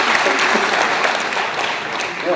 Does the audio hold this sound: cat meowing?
no